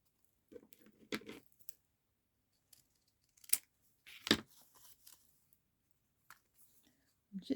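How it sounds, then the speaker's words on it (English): Scissors cutting off the bottoms of paper craft pieces for a collage, heard as a few short, crisp snips and rustles separated by quiet gaps. "Let's just cut off the bottoms."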